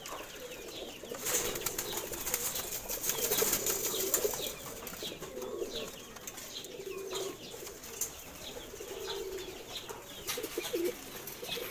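Pigeons flapping their wings repeatedly among a flock of caught Jhelum pigeons, with bursts of wingbeats over soft cooing and rustling, moderately close, no talking.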